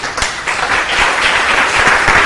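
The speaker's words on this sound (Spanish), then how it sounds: "Démosle un aplauso al Señor." A church congregation applauds loudly and steadily, a dense patter of many hands clapping without pause.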